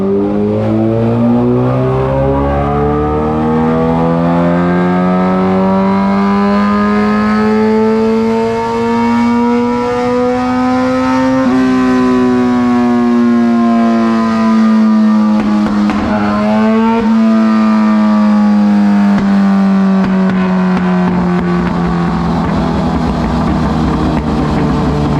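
Suzuki GSXR 750 with a TOCE exhaust revving hard on a dyno, a loud continuous engine note climbing in pitch, peaking, then easing down and rising again, with no talk.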